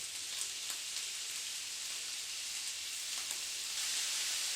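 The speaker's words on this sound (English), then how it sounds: "just fry it off and push it down to try and break up all that mince while it's cooking" Mince frying in a pan and being pushed down to break it up for lasagna, a soft, steady sizzle with a few faint scrapes.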